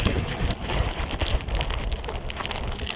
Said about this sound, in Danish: Okay, det begynder faktisk at regne meget.